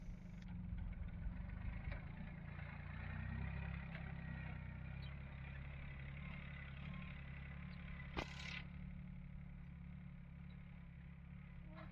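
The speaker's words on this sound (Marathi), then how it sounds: "पेरणी कशी चालू आहे छोट्या ट्रॅक्टरच्या साहाय्याने" A small tractor engine drones steadily while sowing mung beans in a field, a continuous low idling rumble heard fairly close, with one brief clatter near the end and no talk.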